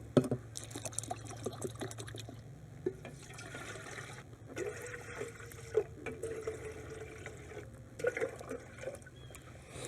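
Water pours and trickles steadily into a coffee pot at a campsite, quiet and close, with small clinks and knocks along the way.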